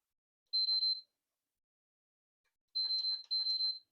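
A PS5 console opened up for repair on a workbench gives a short high electronic beep, followed after a pause by a longer double beep, clear and isolated against silence.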